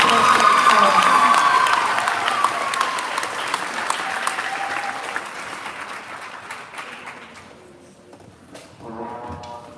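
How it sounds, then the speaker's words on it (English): An audience at a middle school band concert gives a loud, sustained round of applause for alto sax solos. The clapping gradually thins and fades, and a voice starts speaking near the end. "Extra round of applause for those solos."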